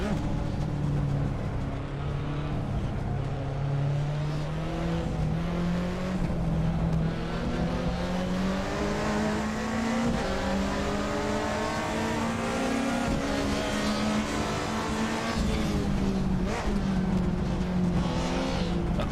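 A Mercedes race car engine in a sim racing game screams loud and steady for about nineteen seconds, its pitch climbing through gears with occasional shifts and a faint tire chirp.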